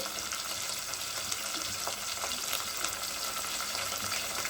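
Chopped onions and green chillies fry in a pan, giving a steady close sizzle with light stirring and faint scraping throughout, no voices.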